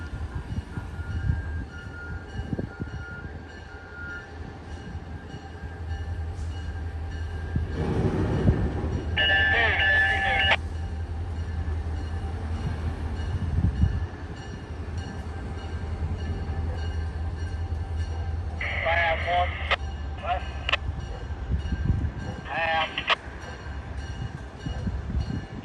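A Norfolk & Western diesel locomotive running on the line near a working crossing gate, a steady low rumble of engines and wheels throughout, with several horn blasts sounding partway through.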